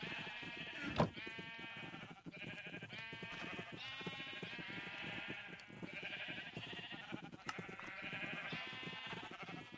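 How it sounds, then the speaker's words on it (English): Sheep bleat repeatedly in overlapping, wavering calls in Minecraft, fairly loud and continuous, with a sharp knock near the start and a steady background hum. "I really need to specifically figure out how to shut up the sheep"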